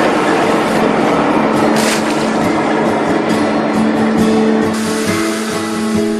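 Aboard a fishing boat off Boryeong on Korea's west coast, a steady mechanical drone with rhythmic clanking fills the deck as the net is changed, loud and continuous with no voices.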